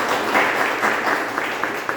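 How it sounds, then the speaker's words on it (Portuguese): An audience at a seminar on lifelong learning and careers gives a thick, continuous round of applause, loud and close, with a few individual claps standing out from the wash. "Uma salva de palmas para todos vocês."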